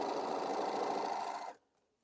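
Quilt seams being stitched on a sewing machine, a steady, fast mechanical whir that runs evenly for about a second and a half, then stops abruptly into near silence.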